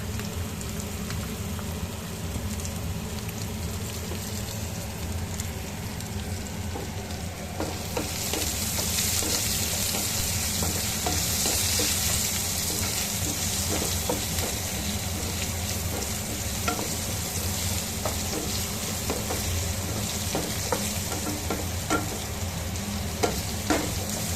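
Potatoes frying with turmeric in a pan for homemade ghugni, a loud constant sizzle under steady scraping and stirring strokes that grows slightly louder partway through.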